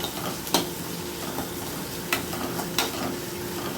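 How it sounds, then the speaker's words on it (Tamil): Moringa (drumstick) leaves being lightly sautéed and stirred in a pan for ragi flour adai, with a soft steady sizzle and a few faint scrapes of the spatula against the pan. "கொஞ்சமாக வதக்கினா போதும்,"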